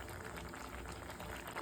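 Semiya payasam bubbling at a steady boil in a pot on the stove, a dense, continuous simmering hiss and bubbling heard close, with no talk over it.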